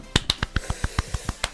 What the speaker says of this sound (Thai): ขอเสียงปรบมือเบาๆให้กับชาเลนจ์นี้ของผมเลยครับ